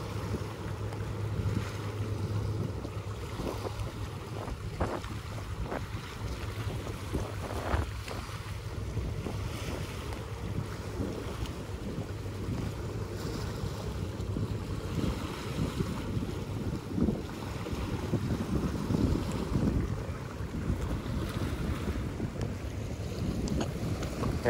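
A boat runs along the sea near an island and river mouth, its steady engine rumble mixed with strong wind buffeting the microphone and splashing water, continuous and without talk.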